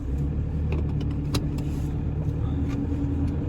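A cold-engined Toyota Hilux drives along with a steady, close engine rumble from inside the cab and a few faint clicks and rattles over the top.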